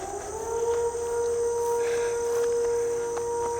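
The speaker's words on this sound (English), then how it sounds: "Some kind of EMS call if you guys hear that siren going off." A distant EMS emergency siren wails in a steady, slowly wavering tone over faint outdoor ambience and insect-like chirping near a lake.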